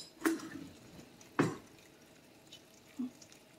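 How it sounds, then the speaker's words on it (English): Three separate drips of hot divinity candy syrup plopping into cold water, spaced about a second apart, fairly close and quiet, with no voices. "you just drop it down in cold water"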